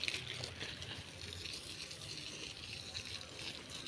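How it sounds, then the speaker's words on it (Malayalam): Water sprinkled over a garden soil mix, a steady soft spray and patter that runs without a break, close by and fairly quiet, with no voices. "നമ്മൾ നന്നായിട്ട് ഒന്ന് എല്ലാം വെള്ളം തളിച്ചു നനയ്ക്ക് കൊടുക്കണം"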